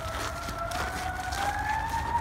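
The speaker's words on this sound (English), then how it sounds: "Fire truck is coming." A fire truck siren wails past a park, two steady rising tones sustained over the full stretch of this short moment at moderate distance, with low traffic rumble underneath and no talking.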